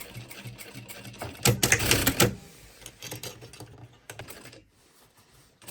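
Sewing machine stitching a fabric shopper bag, a rapid mechanical rattle that swells into a loud burst of running stitches, then eases into quieter intermittent clatter and handling.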